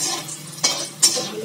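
Dal puri frying in hot oil gives a steady soft hiss, broken by two brief metallic clinks of a utensil against the pan.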